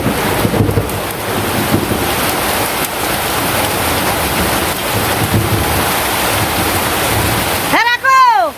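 Heavy rain pours down over a village work field, a loud, dense, steady hiss of downpour with wind rumble throughout, and a brief rising whistle-like tone near the end.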